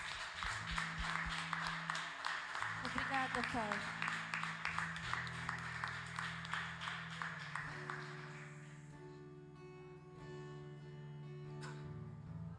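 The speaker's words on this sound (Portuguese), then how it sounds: "Aplauda ao Senhor em nome de Jesus." A church congregation claps in rhythm during a communion service, steady beats over sustained organ or keyboard chords, with a voice speaking briefly; the clapping fades after about eight seconds as the music carries on.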